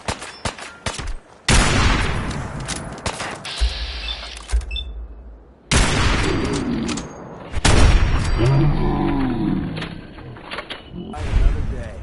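Gunfire in Fallout 4, loud sharp bursts and fusillades breaking in abruptly between quieter stretches, with a short low rumble mid-way and a voice speaking over part of it.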